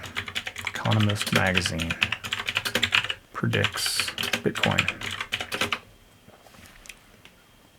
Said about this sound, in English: that's a mechanical keyboard if you're curious